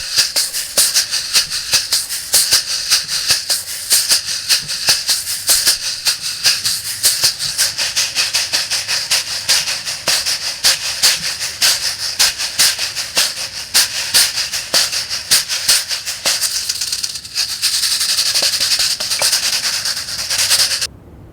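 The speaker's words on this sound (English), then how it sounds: "rattle in English, but in Swahili it's called kayamba" A kayamba rattle shaker shaken in a steady, fast rhythm, a dense loud hiss of rattling beads that keeps going without a break and no voices.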